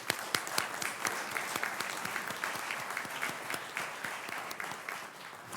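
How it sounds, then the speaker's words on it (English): A round of applause at a fall commencement ceremony, with many hands clapping steadily in a large hall at moderate distance for several seconds. "Let's give them a round of applause"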